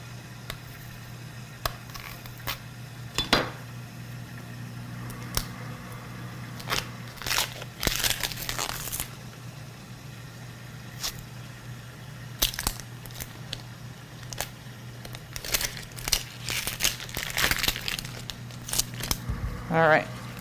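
Papery outer skin is peeled off one large onion in a kitchen, giving scattered dry crackles and crunchy rustles, with a brief louder crinkling burst midway and another near the end, over a low steady hum.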